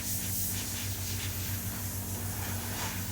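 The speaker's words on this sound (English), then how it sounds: "by spraying the airbrush a little bit unevenly here and there" A steady, close hiss of an airbrush spraying paint onto a skull mannequin head continues without pause over a low background hum.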